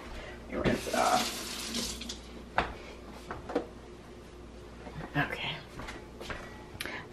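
A kitchen tap runs as an item is rinsed beneath it, water splashing and rushing in uneven bursts close by, with a few clatters and a person talking over it.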